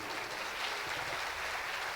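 Steady, dense clapping from the audience at the Anandotsav event, sustained at an even level for the whole stretch with no voices over it.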